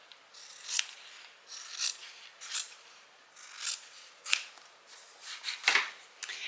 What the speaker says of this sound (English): And cut off the excess of the bottom pocket.